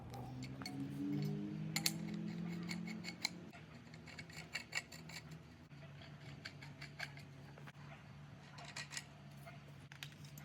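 Parts of a laser level pole mount kit are fitted together by hand, giving sharp clicks, metallic clinks and small rubbing taps in an irregular sequence, close and fairly quiet, over a low steady hum.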